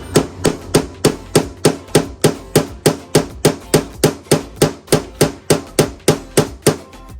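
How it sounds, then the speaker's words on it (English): Sharp metallic hammer strikes on a prick punch marking the metal of a charcoal grill ring out in a steady, evenly spaced rhythm, about three per second, loud and close with no talking. "I grabbed the prick punch that I had from another project, and I'm just going to start and make a mark"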